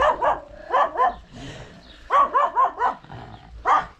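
A dog barks in clustered bursts, two or three sharp close barks at a time separated by brief pauses, loud and clear with no talking over them.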